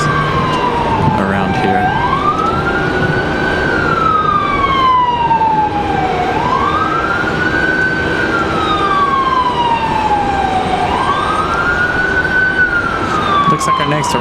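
A Wake County EMS emergency vehicle runs its siren near Raleigh-Durham airport, a loud wailing tone rising and falling in slow repeated sweeps over steady road and wind noise, with a voice speaking briefly.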